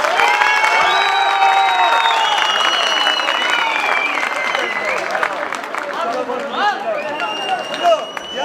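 A festival crowd at the Munzur Culture and Nature Festival applauds and cheers to welcome a singer on stage: loud, sustained clapping mixed with whistles and shouting voices, close and full throughout.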